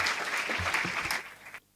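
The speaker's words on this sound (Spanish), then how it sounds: "vamos a recibir a nuestra protagonista con un fuerte aplauso" A conference audience welcomes a speaker with strong applause, a dense burst of clapping that stops abruptly near the end.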